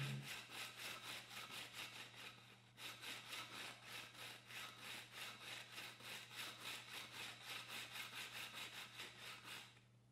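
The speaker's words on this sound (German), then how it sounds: "Legen Sie den Abrichtblock auf und führen Sie ihn in kreisenden Bewegungen oder abwechselnd" Diamond dressing block rubbed over a wet bench sharpening stone, a soft gritty scraping in quick regular back-and-forth strokes, close and quiet with a brief pause partway through.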